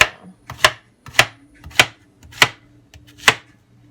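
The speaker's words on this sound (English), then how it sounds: "I'm just chopping it also into small pieces." Knife chopping zucchini into small pieces on a cutting board, six sharp, close thwacks at a steady, unhurried rhythm with brief quiet gaps between strokes.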